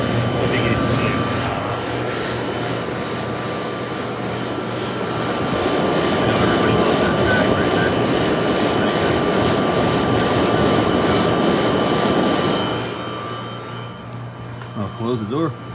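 A vintage air conditioner unit roars steadily at first start-up of the cooling season, a loud, broad whooshing hum with a constant tonal whine that drops away near the end as a voice briefly speaks.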